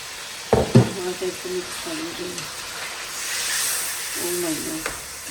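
Green chillies hit hot oil in a pan of chicken white karahi, giving a soft, steady sizzle and hiss. A couple of sharp clatters come early, and a voice talks over the frying at a moderate distance.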